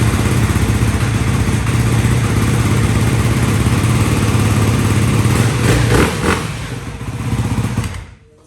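A 2024 Ducati Hypermotard RVE supermoto runs loud and close, its engine holding a steady throaty idle with a few revving swells near the end before cutting off abruptly into silence.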